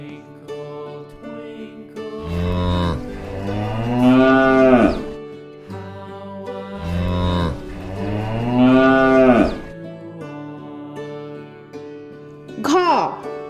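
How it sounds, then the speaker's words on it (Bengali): Cattle, a cow and its calf, give two long, loud mooing calls and a brief third one, set over steady background music. "গ গয়ে গরু বাছুর দাঁড়িয়ে আছে।"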